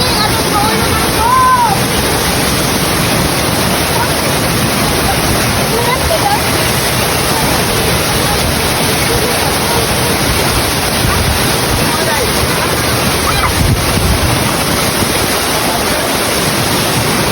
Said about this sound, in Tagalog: Welcome to Mabanog Falls!